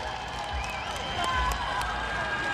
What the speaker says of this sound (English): Oh yeah, the crowd's loving that one.